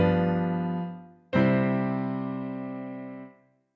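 Two sustained piano chords played with both hands, full and rich. A short chord is struck first, then after a brief gap a bigger, fuller chord rings out and slowly decays.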